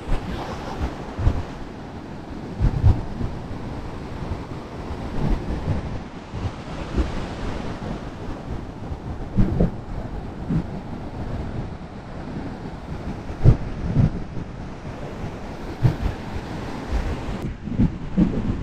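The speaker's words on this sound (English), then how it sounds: "I'm just watching these waves here." Surf rolls in and breaks in steady, overlapping washes at Cannon Beach, Oregon, with wind buffeting the microphone and no voices.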